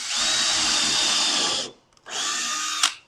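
Power drill pre-drilling holes in wooden picket fence boards: two close whining bursts, the first about a second and a half long, the second shorter, with a brief pause between.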